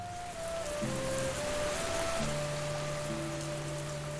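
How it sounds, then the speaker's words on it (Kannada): A heavy rain sound effect hisses steadily in the background while sustained tonal notes, like soft music, play over it; no voices. "ಒಂದಿನ ಜೋರಾಗಿ ಮಳೆ ಬರುತ್ತೆ"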